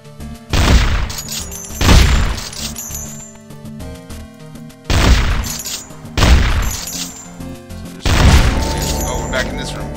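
Shotgun blasts in the video game Infectonator: Survivors, four heavy booming shots spaced about two seconds apart, each with a ringing tail, mixed with game music and clinking effects.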